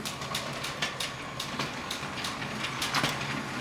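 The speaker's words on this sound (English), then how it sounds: "We'll power on the cargo train" A motorized LEGO City cargo train, set 60052, runs steadily along plastic track, with a continuous mechanical rattle and regular clicking over rail joints at close range, no talking.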